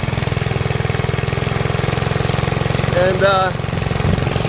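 A 1949–1953 Hiawatha Doodlebug scooter engine runs steadily in a close, loud, even putter while riding in circles, with a brief higher rising whine midway and a short spoken word.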